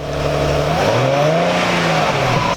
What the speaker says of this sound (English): listen, stock exhaust, gang.